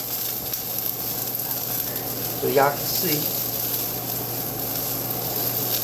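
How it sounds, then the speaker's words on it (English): Steak searing in a pan with olive oil and butter gives a steady, close frying sizzle throughout, with someone talking briefly over it. "Listen to that sizzle."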